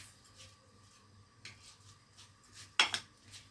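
A spoon stirs rice coated in ghee with salt and pepper in a pot, making soft scraping taps and one louder clatter against the metal in a quiet kitchen.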